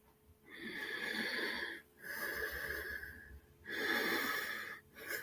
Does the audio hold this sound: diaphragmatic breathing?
yes